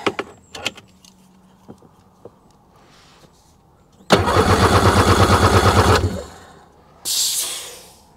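A two-stroke Seadoo engine cranked over during a compression test, one steady burst of rhythmic starter churning lasting about two seconds, close and loud, after a few clicks and handling knocks and before a later hiss-like noise.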